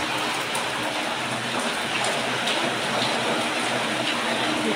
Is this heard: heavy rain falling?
yes